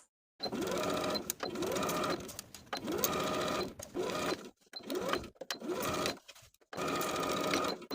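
A sewing machine bastes around the armhole of a lined dress with a quarter-inch seam allowance, running in close, steady bursts separated by short pauses, with no voices over the stitching.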